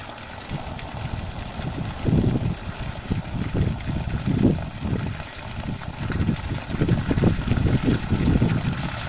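A yard hydrant runs with water sputtering and gurgling as it turns aerated, uneven bursts of splashing over a constant hiss, close by and with no talking.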